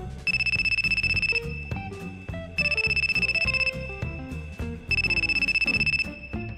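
Phone ringtone for an incoming call plays a repeating melodic pattern in three loud, close bursts, with no voices.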